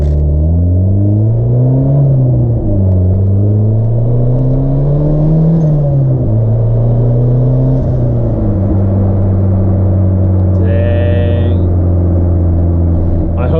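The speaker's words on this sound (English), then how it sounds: "let's get you guys some good spool here" A turbocharged Honda Civic engine drones loudly and steadily, its pitch rising and falling with throttle, and a brief high turbo whine rises above it near the end.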